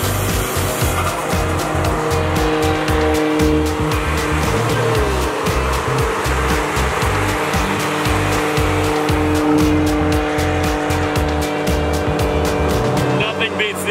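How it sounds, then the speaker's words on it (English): A Nissan Skyline with an RB26 engine roars loudly at speed on a track, its exhaust note steady and continuous with tire squeal and rapid popping, and talk mixed in throughout. "Nothing beats the exhaust note of that RB26 in the skyline"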